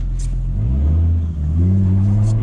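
A drift car with an OM605 diesel fitted with a T04E turbo revs hard as its wheels spin on snow, a loud close engine drone that rises steadily in pitch, dips briefly, then climbs again.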